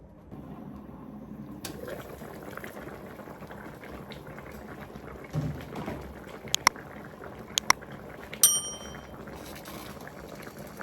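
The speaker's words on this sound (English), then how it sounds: "So let it cook for at least 20 minutes before we add the plantain." Chicken and plantain porridge simmering in a pot, a low steady bubbling that runs throughout, with a few sharp clinks of a utensil near the end.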